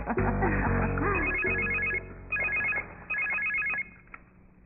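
A telephone ringing with a trilling electronic bell in three repeated bursts, loud and close, over a music bed that fades away during the rings.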